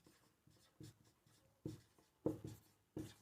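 Chalk or pen writing out maths working on a board or paper during a Bihar Board matric maths lesson: a run of short, soft scratchy strokes in uneven rhythm, close by and fairly quiet.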